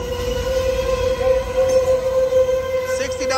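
An Amtrak Capital Corridor train with an F-59PHI locomotive rumbles loudly at Oakland's Jack London Square station, a steady sustained horn-like tone riding over the engine noise, with brief higher squeals near the end.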